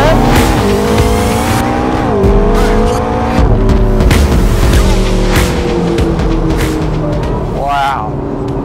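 A McLaren 650S 3.8-litre V8 pulls hard through the gears, its pitch climbing and dropping at each shift, with tire noise and a voice underneath.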